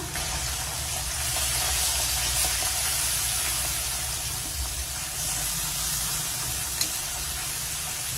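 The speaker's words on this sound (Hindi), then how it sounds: "तेल अच्छी तरह से गर्म हो गया है तो अब इसमें मछली जाएगा।" Fish frying in hot mustard oil, a steady bright sizzle and hiss that runs unbroken at an even level, close to the pan, with an occasional faint pop.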